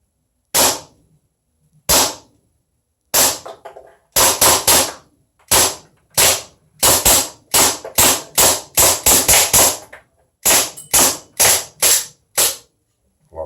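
An HK VP9 gas blowback airsoft pistol fires about twenty sharp, crisp shots, starting as slow single shots and speeding into quick bursts. Each crack comes with a snappy mechanical slide action, close and loud against silence.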